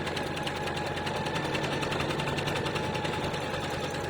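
A home sewing machine runs a final finishing stitch with the presser foot down, a steady close whirring hum with fast mechanical ticking that carries on evenly without pause.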